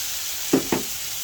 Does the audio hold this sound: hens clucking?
no